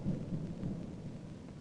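Thunder from an electrical storm rumbles low and continuous, with a heavy roll at the start fading slightly under the sound of rain, no voices.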